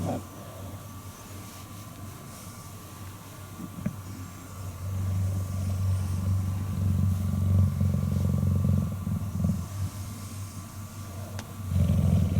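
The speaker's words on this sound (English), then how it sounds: "We rub on her, we touch her, and more she purrs." An adult cheetah purring in a low, continuous rumble while being rubbed and petted inside its enclosure, a steady close purr that swells louder midway and again at the end.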